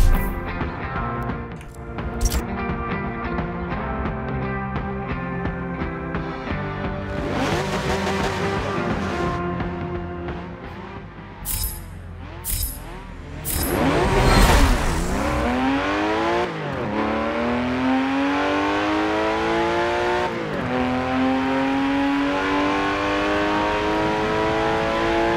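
The engine of a 1973 Porsche 911 Carrera RS in Forza Motorsport 7 revs hard through repeated rising and falling gear pulls, loud and close throughout, with a few short tire squeals.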